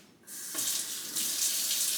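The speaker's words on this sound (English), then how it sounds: "So let me add a little bit of water." Water pours steadily from a tap, a continuous close hiss rising slightly as the flow increases, while water is being added to thin a homemade salad dressing.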